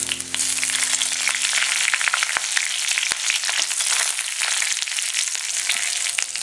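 Curry leaves sizzle loudly in hot oil with browned shallots in a pan for a Kerala drumstick stir fry. The hiss is a steady crackle with small pops throughout, close up and with no talk.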